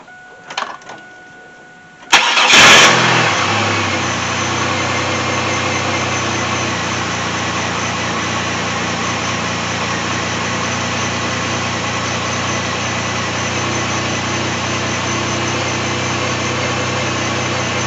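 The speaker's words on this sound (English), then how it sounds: "we'll start the engine, see how it sounds" A 2002 Chevy Camaro with an upgraded intake air system cranks briefly, catches with a sharp roar and settles into a steady, loud, even idle that continues close up, with a faint voice before the start.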